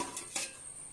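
A metal lid is lifted off a steaming pot of tapioca with dried fish on a home stove: two quick soft clinks of lid on rim, then a faint steady hiss of steam.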